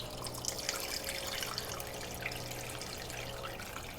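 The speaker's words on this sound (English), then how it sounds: "I'm gonna add 2 more liters of water." Water pours into a stockpot of beef pho broth, a steady, fairly quiet splashing stream running continuously for a few seconds with no voices.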